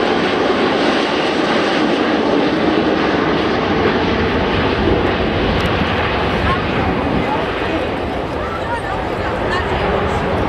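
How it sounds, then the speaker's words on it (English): Boeing 727 jet flying past low in landing configuration at Cosford Airshow, a loud, steady, broad engine roar filling the whole stretch, easing slightly near the end, with a voice talking over it. "the aircraft's going to come past us, and this is in landing configuration"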